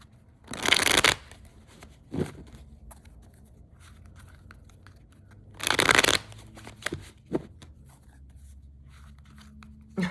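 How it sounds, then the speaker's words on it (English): A deck of tarot cards is shuffled in two loud riffling bursts, with softer taps and handling sounds of the cards between them, heard up close in a quiet room. "I will shuffle the first deck just a few more times,"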